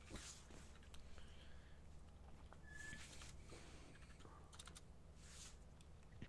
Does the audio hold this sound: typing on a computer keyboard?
yes